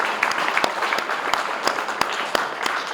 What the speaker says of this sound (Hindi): मैडम के लिए ताली हो जाए